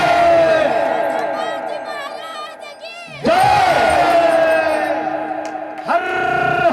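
A large crowd at a devotional kirtan gathering chants "Har Har" loudly in sustained unison, voices swelling together in repeated waves of shouting with brief dips between them.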